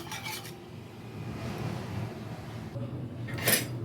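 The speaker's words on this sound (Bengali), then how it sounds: "এখন আমি এলাচটাকে খুব ভালো করে মিশিয়ে নিব" A spoon rubbing and scraping steadily around a container while cardamom is stirred into milk for malai kulfi, a continuous raspy rub with a brief brighter clink near the end.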